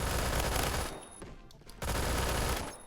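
Tec-9 pistol fire in the video game Phantom Forces: rapid, loud bursts of shots in quick succession, broken by a short lull before the firing resumes, with no talking over it.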